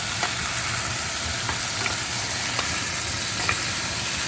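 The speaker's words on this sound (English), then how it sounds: "give it a stir to check on the doneness of the beef and the vegetable here." Beef and zucchini stir-fry sizzles steadily in a pan while a utensil stirs it, with a few light scrapes and taps breaking through the continuous frying hiss; no talking.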